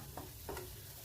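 Ground peanut, sesame and gram flour paste roasting in oil in a pan, with a few soft spoon scrapes against a low, steady sizzle, quiet and close, with no talking.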